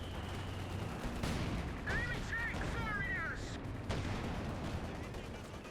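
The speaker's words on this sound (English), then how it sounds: "Panthers open fire on the guards." Panther tanks open fire in Company of Heroes 2 on a highway battlefield, with booming cannon shots and scattered gunfire among explosions, dense and continuous, together with chirping battle effects.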